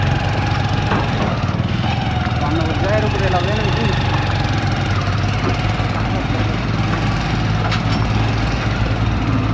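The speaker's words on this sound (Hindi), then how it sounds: "आगे आगे चल रहे ट्रैक्टर" Farm tractor engine running on a road just ahead, a constant loud diesel drone with knocking vibration under talk from nearby people.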